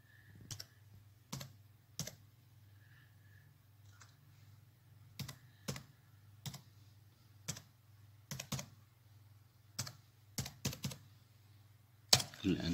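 A computer keyboard clicks as a network password is typed, producing sparse, irregular keystrokes at close range over a low steady hum, with a louder final key press at the end.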